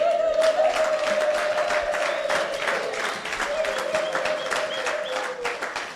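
A church congregation at a bishop's consecration service applauds together in sustained, fairly loud clapping that runs steadily throughout, with a sustained tone held beneath the clapping.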